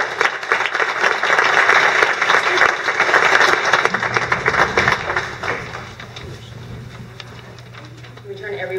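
Loud, sustained applause fills a Vancouver City Hall panel on International Women's Day as an audience welcomes a panelist, then tapers off into a low hum and scattered sounds.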